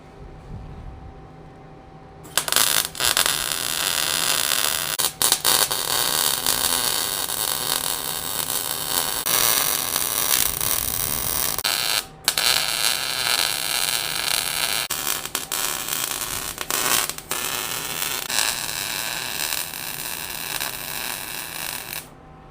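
Electric welding on a scratch-built electric locomotive, a loud, steady crackling hiss that runs in long unbroken stretches with brief cutoffs, close up and without talking.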